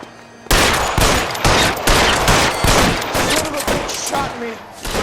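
Heavy gunfire erupts in an LA Noire shootout: loud, close bursts of overlapping shots and rattling volleys keep going without a break, with voices briefly audible in the mix.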